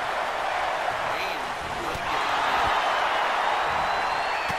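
Crowd noise from a wrestling arena in WWE 2K19, a steady, loud wash of murmuring and cheering spectators that holds constant throughout, with faint commentary-like voices under it.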